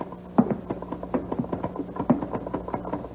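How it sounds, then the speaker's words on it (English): Rapid irregular taps of a typewriter being typed on somewhere above in an upstairs workroom, a steady run of clicks and knocks at moderate loudness with no talk over them. "I hear him, his typewriter."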